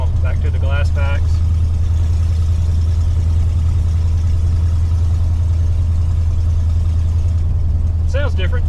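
A 1986 Ford F150 engine runs through glass pack exhaust with no X pipe, giving a steady, loud, deep droning rumble throughout, with brief talk at the start and end.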